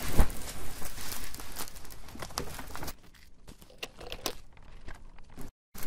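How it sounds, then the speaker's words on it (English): A greenhouse rattling and flapping in strong wind, with loud, irregular bursts of crinkling and banging that ease off briefly before picking up again. "Again, I am sorry about the noise from this greenhouse."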